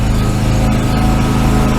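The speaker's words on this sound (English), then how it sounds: "Avoiding the lawnmower again." A lawn mower engine drones steadily and loudly throughout, a constant close-up motor hum with no other sounds.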